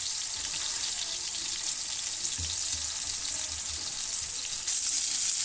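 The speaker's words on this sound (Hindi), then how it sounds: "जो हो गए हैं उसको पलट के और उसको दबा दबा के हमें सेकना है ताकि अंदर से कच्चे ना रहें" Tawa kebabs frying on a flat griddle while being flipped and pressed, a steady soft sizzle with a few low thumps of handling, no talking.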